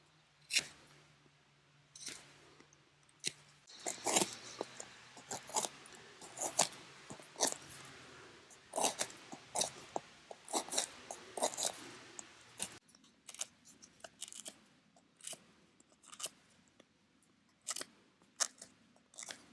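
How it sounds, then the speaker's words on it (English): A knife cuts the tough skin off a tinder mushroom outdoors, giving a run of sharp, close scraping and crunching strokes in irregular rhythm, some bursts quick and dense, others spaced apart, with no talking. "I start now to cut the skin of the mushroom off to get to the drama layer."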